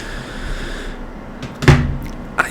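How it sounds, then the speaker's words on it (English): A phone dropped onto a glass table makes one sharp, hard clack with a short rattle, followed by a smaller knock a moment later, close against quiet room noise. "just threw my phone down without even thinking"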